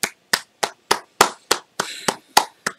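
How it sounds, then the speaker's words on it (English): A single person claps about ten times in a steady, evenly spaced rhythm, each clap sharp and close with clean silence between. "let's give this man a round of applause"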